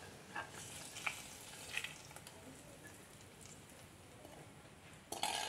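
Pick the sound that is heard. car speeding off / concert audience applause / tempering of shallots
tempering of shallots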